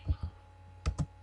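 Four soft clicks on a computer keyboard, two quick taps followed after a pause by two more, close and clean in a quiet room.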